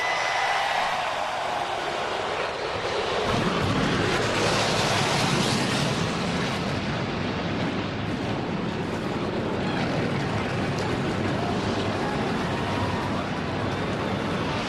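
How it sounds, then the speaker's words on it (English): A massive roar of NASCAR race car engines swells up and holds at the start of the Daytona 500, loud and continuous, many cars firing and idling together. "Gentlemen, start your engines."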